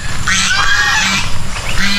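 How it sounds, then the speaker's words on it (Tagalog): Several farm geese honking nearby, loud nasal calls overlapping in short bursts over a low background rumble. "ang pinakamaingay natin yung gansa. Pag may taong pumapasok dito, nag-iingay na yan sila."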